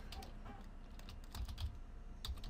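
Typing on a computer keyboard while entering sign text, a steady patter of soft key clicks with a few louder clustered strokes, close and alone with no talk.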